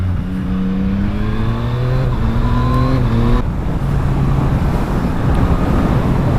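A 2024 Yamaha MT-09 motorcycle engine revs hard on a ride, rising in stepped pitch through the gears before cutting off, then droning on under strong wind buffeting at the microphone.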